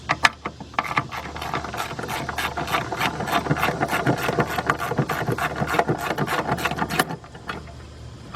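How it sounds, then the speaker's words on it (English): A ratchet with a 10mm socket backs bolts out of the engine computer on a 2003 Lincoln Navigator with a 5.4 engine, giving quick, close clicking bursts that run almost continuously, then stop. "let's get our 10mm bolts out of here"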